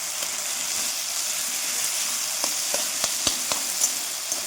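Fish and vegetables sizzle in hot oil in a kadai, a constant hiss with a few sharp crackles and pops partway through, heard close and without talk.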